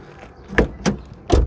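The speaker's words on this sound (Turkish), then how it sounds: "Ön kapımız biraz daha ağır" The front door of a 2016 Nissan Pulsar 1.2 Tekna, a heavy car door, makes three distinct clicks and clunks as the latch and hinge move. They sound close and fairly loud, with no talking.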